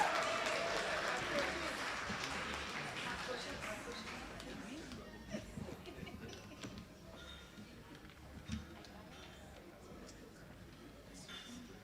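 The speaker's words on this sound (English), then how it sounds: "Let us give Mr. Nigel Mitchell a loud, resounding round of applause." Audience applause at the SLTU 24th annual retirees dinner at Sandals Halcyon, Castries, steady clapping from a room of guests that starts fairly full and gradually thins and fades over about twelve seconds.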